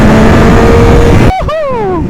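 Stage 1 Yamaha MT-09 motorcycle accelerating with the throttle opened, a loud close engine roar that cuts off abruptly and gives way to rising, sweeping engine tones.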